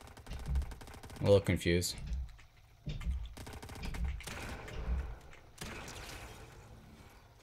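Gunshots in the video game Fortnite, quick rattling bursts of fire at moderate distance, several volleys separated by short gaps, with a voice speaking briefly over them.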